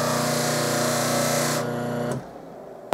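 A buffing wheel polishes a silver-plated cornet with Triple E compound: a steady, loud, close motor whine with grinding texture for about two seconds, then it cuts off into near silence before a brief knock.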